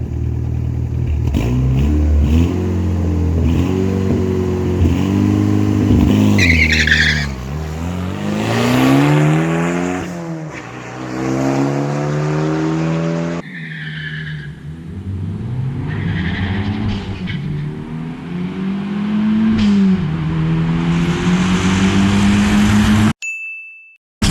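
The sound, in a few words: 2.2 turbo car accelerating at the track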